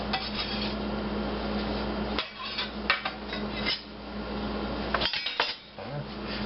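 A knife scrapes chopped vegetables for pico de gallo off a cutting board, producing repeated clattering scrapes and knocks over a low kitchen hum, close and moderately loud, with brief pauses between strokes.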